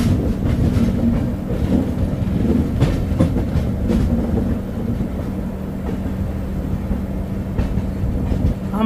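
The 22201 Sealdah Puri Duronto Express arrives at platform 1 of Puri railway station, a loud continuous rumble of rolling wheels and carriages with rhythmic rail clatter close by.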